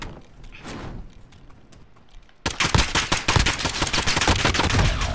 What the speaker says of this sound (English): they're all shooting at me